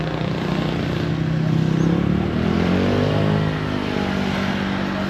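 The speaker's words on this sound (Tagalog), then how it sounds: "Mga motor na natin" Motorcycles idling and revving outside Yeyi's Pizzeria & Cafe in Tanay, Rizal, a steady engine drone with a swell in the middle, nearby and continuous.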